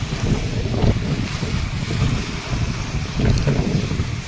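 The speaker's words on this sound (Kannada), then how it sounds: "ಸಮುದ್ರದ ಅಲೆಗಳ ಥರ ಇಲ್ಲಿ ಅಪ್ಪಳಿಸಾಗ್ತಾವೆ ನೀವು ಸೌಂಡನ್ನು ಕೇಳ್ತಿರ್ಬೋದು" Waves slap and wash against the shore of the Renuka Sagar reservoir on the Malaprabha dam, a continuous rough churning with gusty wind noise buffeting the microphone and no talking.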